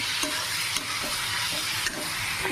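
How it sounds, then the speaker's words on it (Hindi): Onions fry in a pan for an egg dish, a dense continuous sizzle punctuated by several sharp spatula scrapes at irregular intervals; close and fairly loud, with no talking. "मेरा प्याज भुना के तैयार हो रहा है"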